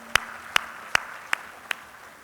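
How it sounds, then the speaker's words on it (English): Five sharp, evenly spaced hand claps ring out in a conference luncheon hall for a Japanese delegation, each crisp and separate over a quiet room hum rather than a full crowd ovation. "So a big round of applause for our Japanese friends."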